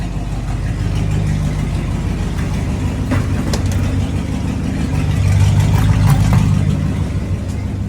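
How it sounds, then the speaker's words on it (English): A 1992–97 OBS Ford F-250 gasoline engine idles after a fuel filter replacement, a loud close deep rumble running steadily with a couple of brief rises in engine speed, no talking. "it's idling a lot better"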